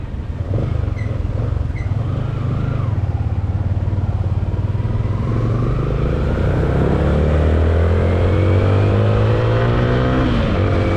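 Yamaha Sniper 155 motorcycle riding along, its engine loud and steady throughout, pitch rising and falling with acceleration as the rider shifts through gears.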